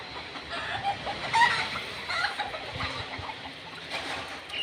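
Many chickens cluck and a rooster crows on an outdoor farm or village slope, the calls scattered and moderately close over a busy background of rustling and ambient noise.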